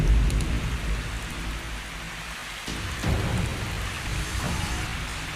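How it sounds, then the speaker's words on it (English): Heavy rain pours steadily outdoors, a dense, continuous broadband hiss with a louder burst at the start and a slight swell near the midpoint, no voices present. "it's still raining so heavily outside"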